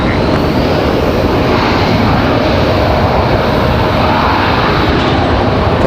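A Delta airliner on a Boston flight roars at Raleigh-Durham airport, a loud, continuous broadband engine rumble and hiss holding steady throughout, with no talk.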